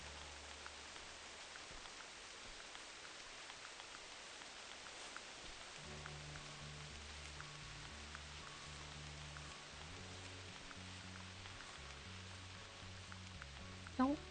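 Steady rain pattering down, a dense continuous hiss throughout, with a low tonal hum joining partway through.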